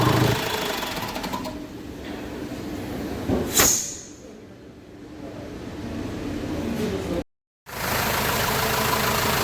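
Renault Master van engine idling steadily after a repair, a continuous close mechanical hum with a brief spike partway through and a short dropout near the end.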